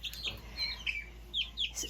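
Small flock of neighbor's chickens gives soft, high chirps and short clucks in a quick, scattered series, fairly close over a low steady hum.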